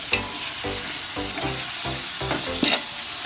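Tomatoes and garlic sautéed in a pan, with a continuous sizzle broken by regular rhythmic scraping strokes of a spatula, close and fairly loud.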